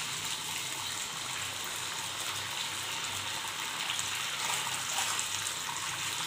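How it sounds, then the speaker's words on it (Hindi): A cup of water is poured into wonton sauce of soy sauce and red chili sauce, giving a steady faint gushing pour throughout. "और इसमें हम 1 कप पानी डालेंगे।"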